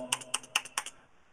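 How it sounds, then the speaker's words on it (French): Fingers type on a Japanese-made Topre keyboard with Topre switches, producing about six soft, crisp keystrokes in an uneven quick rhythm, close and fairly quiet, with no voices. "c'est mon fameux clavier Topré, made in Japan, qui vient avec les fameux switch Topré, super confortable."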